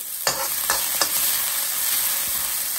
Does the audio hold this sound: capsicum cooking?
yes